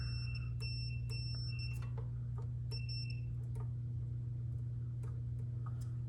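A multimeter on continuity setting sounds repeated short high beep tones while probing a McIntosh C32 preamp during capacitor replacement, over a steady low hum, with no talking.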